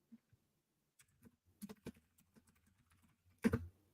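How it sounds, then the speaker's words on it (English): Scattered keystrokes on a loud computer keyboard, close and sparse with irregular clicks and a heavier clack near the end, in a quiet room. "And I've got a loud keyboard."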